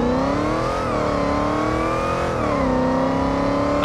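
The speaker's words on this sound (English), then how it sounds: "Now we're in a pickup truck with a Hellcat engine. This is a Ram TRX." A Ram TRX pickup with a supercharged Hellcat engine, driven in the BeamNG Drive game, holds a loud steady engine roar with the pitch rising and dipping slightly as it revs and shifts.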